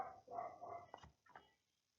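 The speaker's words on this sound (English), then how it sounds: "Please never mind the dog that is barking outside there." A dog barks outside during a lesson, several muffled barks in the first second or so, fairly distant and fading toward the end, with no talk over them.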